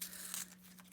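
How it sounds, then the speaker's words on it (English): Tape pulled up off an in-the-hoop taco zip bag where it was sewn in, a brief close tearing rip with a faint crinkle, quiet and alone. "now I am also going to pull up this tape"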